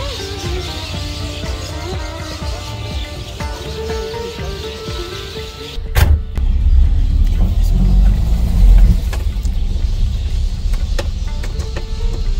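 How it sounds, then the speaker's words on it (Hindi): A 1961 vintage Mercedes, a sixty-year-old car once used by royalty, drives with a loud steady engine rumble; a sharp knock comes midway, followed by heavier low rumbling as it moves on. "अभी हम लोग इस गाड़ी की गाइस राइड करने वाले हैं, 60 साल पुरानी मर्सिडीज जो कि राजा महाराजा यूज़ करते थे"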